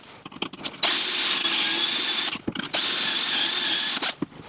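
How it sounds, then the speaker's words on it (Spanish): A power drill whirs steadily through wood drilling pocket holes with a Kreg Jig 320, in two long bursts, briefly stopping between them, loud and close with no voices. "vamos a hacer nuestro taladro"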